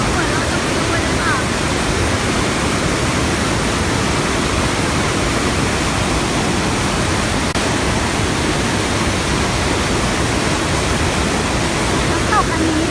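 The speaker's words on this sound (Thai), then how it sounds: "น้ำตกอันนี้เป็นน้ำตกที่ใหญ่ที่สุดในยุโรปนะคะ แล้วก็มีความแรงมาก" Rhine Falls in Switzerland, Europe's largest waterfall, roars with a steady, powerful rush of water that fills the whole clip with dense, unbroken noise.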